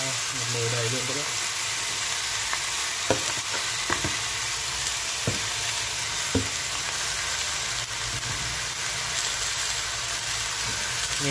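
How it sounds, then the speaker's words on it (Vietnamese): Marinated pork hock sizzles as it is stir-fried with fragrant onions in a full pot. A steady frying hiss runs throughout, broken by a few sharp clinks of stirring, with faint voices underneath. "Nghe cái tiếng thịt xèo tiếng ấy."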